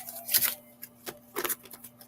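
Quick crisp riffling and tapping of cards being shuffled, a few short bursts close to the microphone over a faint steady hum.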